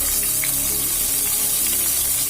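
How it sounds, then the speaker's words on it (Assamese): Onions and tomato fry in hot mustard oil in a kadai, giving a steady, close sizzle and crackle throughout with no talk. "তেলখিনি গৰম হোৱাত ইয়াত দিছোঁ পিঁয়াজখিনি ৰঙচুৱা হোৱাত মই দিম ইয়াত অকণমান বিলাহী"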